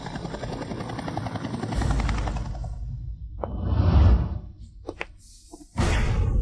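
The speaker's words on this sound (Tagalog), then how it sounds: "Sasakay ako ng Black Hawk Fighter Jet." A Black Hawk helicopter arrives with a loud, steady rotor whirr that swells, broken by whooshing passes and a few sharp thumps before the roar returns at full strength.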